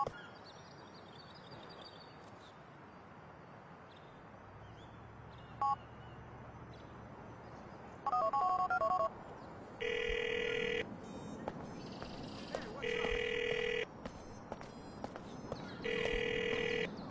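A mobile phone in Grand Theft Auto IV dials out with a quick burst of keypad tones, followed by four regular ringback tones, each a few seconds long and evenly spaced, over quiet ambient city noise.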